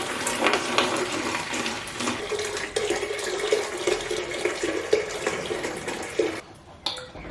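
Water is poured steadily into a container while making cherry honey mead, a continuous splashing stream lasting several seconds before it cuts off near the end, followed by a brief clink.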